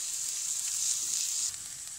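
Kashmiri kabab cooks in a pan without oil, giving a close, steady, bright sizzle that runs unbroken throughout and eases slightly near the end.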